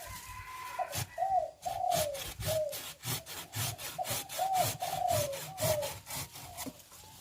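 Rapid back-and-forth strokes of a hand saw cutting a tree branch, steady and close, with a dove cooing in the background.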